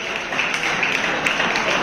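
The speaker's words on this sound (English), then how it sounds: "please give a huge round of applause." A graduation-style ceremony crowd at a medical university claps for a student. The dense, steady applause fills the whole short moment without a break.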